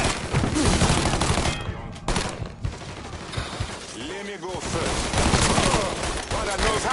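Heavy gunfire in the open-world crime shooter Mafia 3, loud rapid shots and bursts filling the whole stretch, with voices shouting over the shooting.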